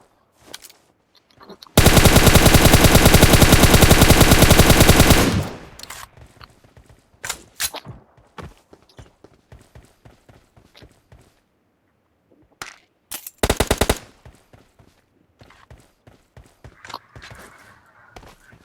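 Gunfire in a PUBG Mobile match played on an iPad mini 5: a loud, sustained burst of automatic fire lasting about three seconds, then scattered single shots, clicks and a second short burst amid quieter game sounds.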